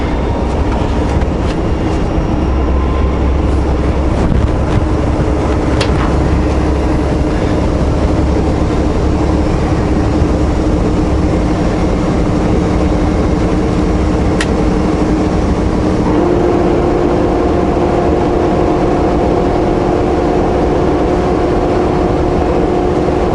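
A lightly loaded LTL truck rolls downhill at full speed in 17th gear, its engine and drivetrain giving a loud, steady rumble with a constant droning hum that lasts throughout, no voices.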